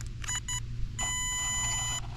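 An Arrma Granite GROM 1/18 RC car powering on, giving a short series of electronic beeps followed by a longer sustained tone, with no talking.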